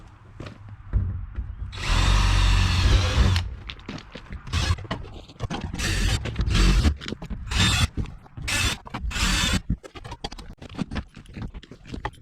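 A power drill bores rivet holes into the wall of a portable toilet. Several loud, close bursts of drilling come in short runs with brief pauses between them, and nobody speaks.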